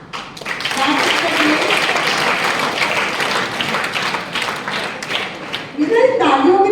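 Audience clapping at a school talk on moral values and exam stress, a dense sustained wash of applause at steady loudness through most of the stretch, with voices rising over it near the end.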